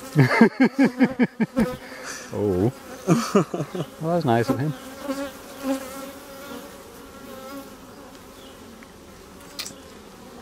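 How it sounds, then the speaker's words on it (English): Dense, steady buzzing of many honey bees fills the space close by during a hive inspection. A voice speaks briefly over it at first, then the humming continues alone. "You got so many bees in here."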